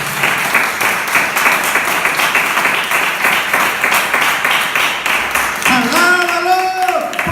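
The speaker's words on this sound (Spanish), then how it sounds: "Ese aplauso que sea para Cristo." A church congregation claps rhythmically in steady, evenly spaced beats under loud music, then voices and instruments swell toward the end.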